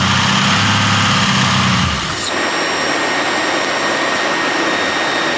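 A Jeep 5.0 stroker engine runs loudly, then the pitch drops sharply about two seconds in as it settles to a steady, hissing idle that continues alone.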